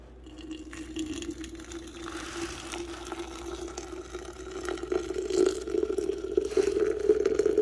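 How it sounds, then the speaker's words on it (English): Hot water pours steadily over tea herbs in a vessel, the trickling tone slowly rising in pitch as it fills, close and continuous. "And now we're ready to pour it over our herbs."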